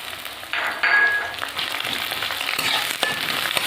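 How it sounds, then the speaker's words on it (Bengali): Garlic, onion and chilli fry hard in hot oil in a wok, a loud, dense crackle that swells and fades over a few seconds, with no voices. "দেখুন পেঁয়াজটা আর রসুনটা আমি দিয়ে একটু ভেজে নিয়েছি"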